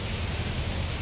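Steady rain at a Buddhist temple in Watugong, Semarang, heard as a continuous, even hiss of falling drops with no voices.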